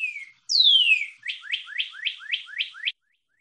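Backyard bird song sounds clear and alone against silence: a short whistled note, a long sweeping slurred whistle, then a rapid series of about seven quick descending chirps.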